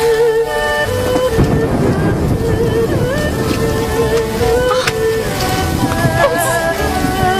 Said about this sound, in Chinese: 我喜欢淋雨